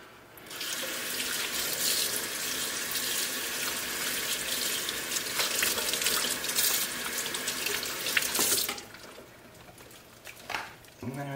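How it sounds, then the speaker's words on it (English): A vintage Star Wars toy is rinsed under a running tap, with a steady rush of water hitting the sink for several seconds before it stops, followed by faint handling sounds. "right, rinse it off."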